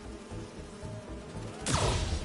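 Bees buzz in the Spider-Man 2 video game, a steady insect drone under game sounds, ending with a sudden loud whoosh.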